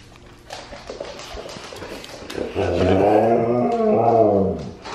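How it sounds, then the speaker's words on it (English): A Siberian husky vocalizes with a drawn-out, wavering howl-like moan that swells loud and close over the last half, after quieter indistinct rustling. "Is that the husky call for ball time?"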